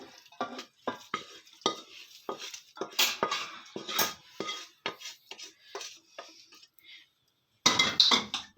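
Chicken egg fried rice is stirred and mixed in a pan with a metal utensil, giving repeated close scraping and clinking strokes in an irregular rhythm over a faint sizzle, with a short pause near the end.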